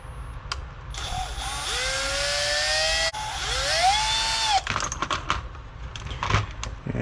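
A power screwdriver whines up and down in pitch as it backs screws out of a Traxxas Rustler RC car, two rising motor bursts followed by light clicks and handling noises.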